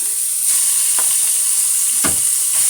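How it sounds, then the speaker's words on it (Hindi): Potatoes frying in hot oil in a pan, a loud continuous sizzle with a couple of soft thuds from pieces being added or stirred. "अब मैं इसमें आलू डाल रही हूँ।"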